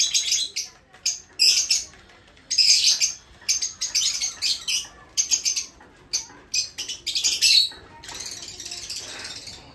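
Pigeons and other birds in a small home aviary at feeding time give bursts of bright chirps and tweets, with some squawks and wing flutters, coming in quick clusters close to the microphone.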